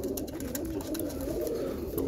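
Pigeons coo in a loft among yellow dilute-colored birds, a low continuous murmuring coo close by, with faint clicks and rustles over it.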